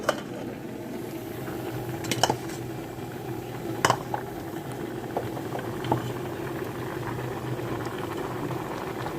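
Cucumber and tomato pieces drop into a pot of simmering cooked dal, giving a few soft splashy plops and clinks over a steady low bubbling, near and moderately quiet.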